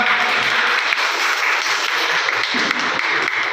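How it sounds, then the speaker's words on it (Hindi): Applause from a seminar audience welcoming a child honoured with a grandmaster title, a steady, dense wash of clapping held throughout without pause. "इसके लिए वेलकम प्लीज तालियां हो जाएगा।"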